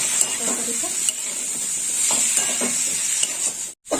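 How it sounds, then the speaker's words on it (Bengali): Drumstick vegetable curry being stirred in a pan with chilli powder and a little water, a steady sizzle and hiss with soft scraping strokes of the spoon, close and continuous. "ভালো করে নাড়াচাড়া করে নেবো তরকারিটা।"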